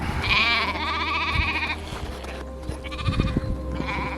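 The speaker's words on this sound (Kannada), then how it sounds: "ಸ್ವಲ್ಪ ಕುರಿಗಳು ಒಂದು ನಾಲ್ಕು ಆಡಿರ್ಬೋದು" Several sheep and goats bleat nearby, overlapping calls rising and falling, with a low rumble and occasional thumps in the background.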